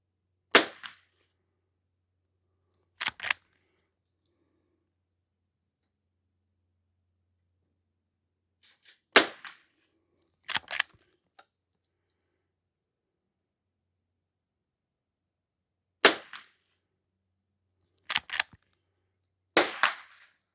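Sharp close gunshots from a Henry H001 lever action .22 rifle firing CCI standard velocity ammunition, single cracks and quick pairs separated by long silent pauses.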